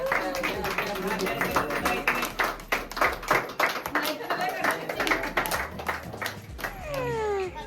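Hands clap repeatedly at a child's first birthday celebration, in quick uneven bursts mixed with voices talking and calling out close by.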